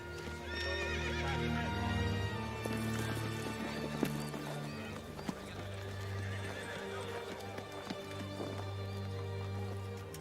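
Horse hooves clip-clop steadily while a horse neighs and whinnies, loud and continuous over ten seconds, mixed with a dense background of music and ambient sound.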